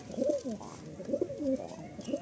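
Domestic pigeons cooing in a loft of Madrasi pigeons in Kolkata, repeated soft throaty coos in rhythmic bursts, close and clear with no talk.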